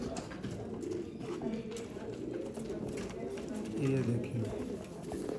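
Sialkoti pigeons, a male and a female, coo softly and repeatedly nearby while someone talks over them.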